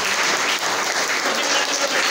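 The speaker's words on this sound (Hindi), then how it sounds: "क्लैपिंग।" Dense, steady applause from an audience fills the air at a school annual prize ceremony as position-holding students are called up, loud and continuous throughout.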